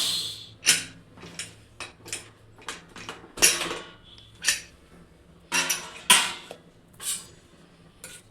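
A cooled pressure cooker holding cooked mutton is handled and its lid opened: a series of close metallic clanks, scrapes and clicks of lid against pot, irregularly spaced with quiet gaps and no talk.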